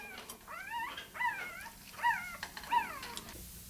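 Puppies whimper and yelp close by, four or five high wavering cries in a row with short pauses between them, over a quiet background.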